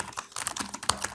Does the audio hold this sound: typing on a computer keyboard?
yes